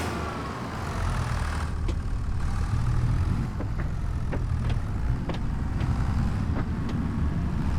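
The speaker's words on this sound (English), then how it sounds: "It seems a little loud in the tractor to me" Steady, loud tractor engine drone in the farming video game American Farmlands, a constant low rumble filling the whole stretch, with a few short, sharp ticks and clicks rising above it.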